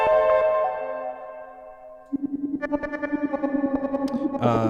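Synthesized tones shaped by shifting envelopes, a sustained drone giving way to a steady pulsing, rhythmic modulation, with no voices.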